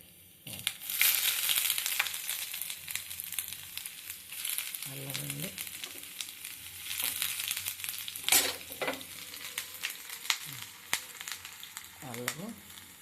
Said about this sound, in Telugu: వేగుతున్నాయండి. ఇప్పుడు మిరియాలండి, మిరియాలు, అల్లం అండి,